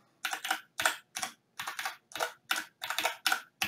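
A password is entered on a computer keyboard, about fourteen crisp, close key clicks in quick uneven bursts with short pauses between, alone and without talk.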